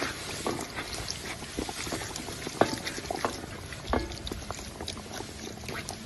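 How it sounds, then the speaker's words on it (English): A pot of Cajun chicken stew in chicken broth is stirred, making soft liquid sloshing and bubbling with scattered light clinks of the spoon at a steady, low level. "go ahead on and give all that a good mix around right there"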